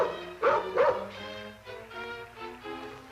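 A dog aboard a boat lets out two sharp barks, then a few softer yips and whimpering whines, close by and fairly loud, with no talking.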